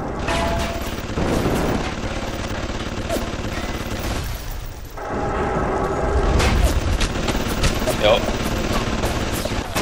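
Gunfire and explosions fill a combat scene in the video game Bioshock, dense continuous bursts with booming impacts, loud throughout with a short lull midway and game voices mixed in.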